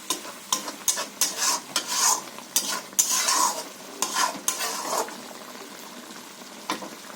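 A spoon stirs hilsa fish and eggplant curry in a sizzling pan, giving a series of irregular scraping strokes over a soft frying hiss that fade toward a quieter end.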